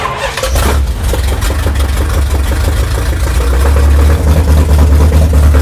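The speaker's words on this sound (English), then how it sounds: "You have a Charger that runs." A 1968 Dodge Charger rat rod cranks and catches, then settles into a loud, steady, rumbling run with a deep low throb and a rough, uneven idle throughout.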